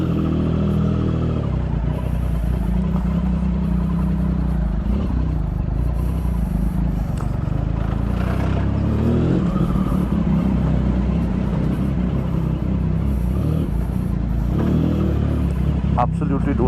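A Triumph Street Triple 675 motorcycle engine pulls away on a foggy, freezing Delhi winter morning, giving a loud continuous engine drone with wind rush as a rider talks over it.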